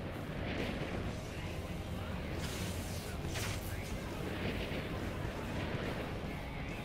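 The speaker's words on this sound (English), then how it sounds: "Their artillery's targeting you." Artillery fire in the Avengers video game: a dense, continuous rumble of booming blasts and explosions, loud and unbroken throughout.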